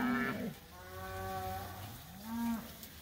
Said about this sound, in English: Cows are freaked out because they're trying to find their babies